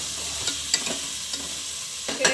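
Tomatoes fry with salt in a pan over medium heat for a green gram gravy, giving a soft steady sizzle broken by several sharp clinks and scrapes of a spoon stirring, close up.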